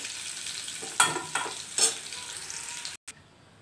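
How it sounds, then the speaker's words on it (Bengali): Bay leaf, chili and cumin tempering in hot oil, a loud bright steady sizzle with a few sharp spits and utensil taps near the start, cut off abruptly near the end. "তেজপাতা ফোড়ন দিচ্ছি, লঙ্কা ফোড়ন দিচ্ছি, জিরা ফোড়ন দিচ্ছি"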